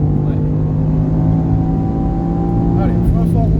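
A car driven at full throttle on a circuit at Mireval, its engine droning steadily and loud with a deep harmonic hum, while voices talk over it from inside the cabin.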